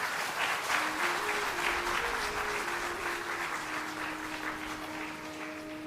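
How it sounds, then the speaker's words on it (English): Steady applause from an audience at a foundation day award ceremony, moderately distant and even, with a sustained musical tone running beneath the clapping. "Yeah, big round of applause,"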